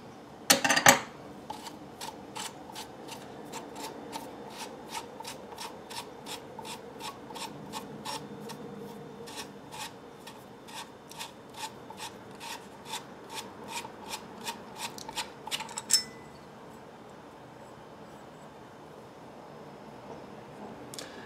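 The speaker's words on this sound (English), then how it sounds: "All you need is a wrench. and you just unscrew it." A wrench unscrews the grip tube of a VZ-61 Skorpion in a fast, regular series of sharp ratcheting clicks. The clicks run close up for about fifteen seconds and stop after a final clunk, with no voices.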